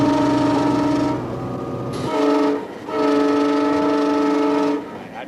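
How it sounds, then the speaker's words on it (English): A train driven by a trainee engineer sounds its horn in two loud, close, sustained blasts separated by a short gap, with a rumbling train underneath. "As she brings the train into a station, Vita must learn the right timing"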